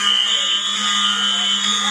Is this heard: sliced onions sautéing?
no